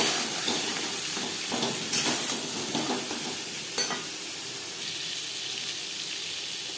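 Peeled, cut pointed gourd (potol) pieces fry with salt and turmeric, giving a steady close sizzle broken by scraping stirs and a few sharper clinks, with no voices.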